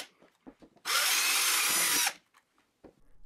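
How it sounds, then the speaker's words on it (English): A power drill bores a hole into a PVC end cap, a single loud burst of roughly one second of steady whirring and grinding, close by and alone, with quiet shop handling noises before and after. "we can just drill a hole into this end cap and screw the ball joint into the cap."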